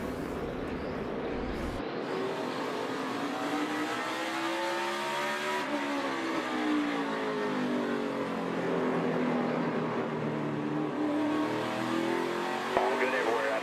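NASCAR race cars roar at full throttle around the Martinsville short track, a continuous loud engine drone with pitch sweeps as cars pass, under steady commentary from broadcasters.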